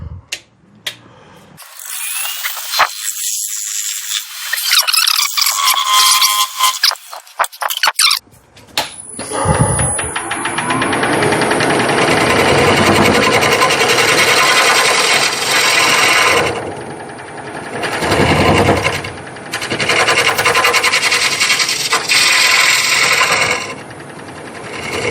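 A hollow form of wood spins on a lathe while a gouge cuts shavings, giving a loud, continuous scraping hiss after some opening handling sounds, with brief dips where the tool lifts off the wood.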